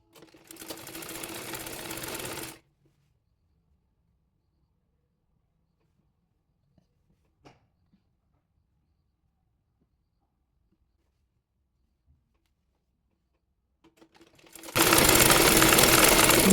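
A sewing machine joins a sleeve to the body of a baby nightie, heard in two short whirring bursts at the start and end with near silence between.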